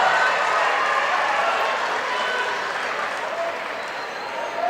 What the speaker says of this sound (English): everybody was clapping for both